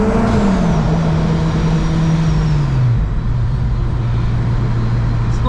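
A supercharged 350-horsepower Honda Civic Si pulling hard from inside the car, engine pitch rising under load, a gear change partway through, then climbing again, loud and close with a high supercharger whine over the roar.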